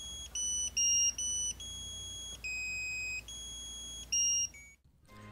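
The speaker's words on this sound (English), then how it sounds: "As soon as the timer counts down to zero, you'll hear a melody or vibration if selected" A children's potty training timer watch alarm chirps a high, bright melody of short tonal beeps at varying pitches, repeating several times before cutting off.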